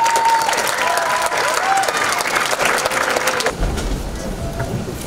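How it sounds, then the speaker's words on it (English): Dense audience applause fills an international festival hall as a South Korean group is welcomed to perform modern and traditional dances, loud clapping mixed with cheers and a few high whistles, fading into quieter room noise near the end. "Now give a round of applause for the South Korean group"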